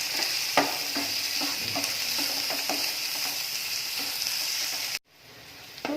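Chopped onion, ginger, garlic and green chili stirred in a hot pan, a loud steady sizzle with rhythmic spoon scrapes, cutting off abruptly before a fainter end.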